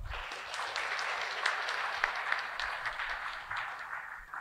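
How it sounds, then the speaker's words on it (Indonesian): Audience applause welcomes Indonesia's Minister for Migrant Worker Protection at a student discussion event, a dense, sustained clapping from a crowd that stays steady for several seconds. "Aplaus untuk beliau."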